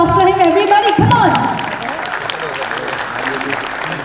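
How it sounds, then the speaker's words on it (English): Crowd applause and cheering at an awards ceremony honoring a gold winner, loud clapping under an announcer's voice that trails off, leaving sustained applause from the audience. "Can we have a huge round of applause for him, everybody?"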